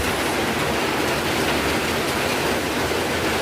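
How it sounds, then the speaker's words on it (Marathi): Heavy morning rain pours down as a dense, steady roar of broadband hiss, loud and unbroken throughout, with no voices. "खूप जोराचा पाऊस आहे"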